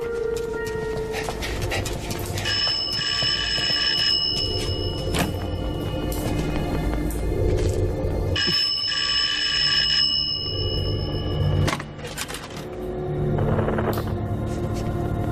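A telephone rings inside a home, loud, repeated electronic trills in two bursts over steady background music and noise.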